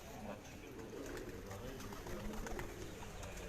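Pigeons coo softly on a rooftop loft while being fed, with low murmuring calls repeating steadily under a constant outdoor background and some people talking nearby.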